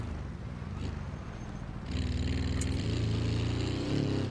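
Simulated car engine in the BeamNG driving game, a steady droning mid-pitched engine note that grows louder and rougher partway through as it bogs under load, continuous and close with no talking.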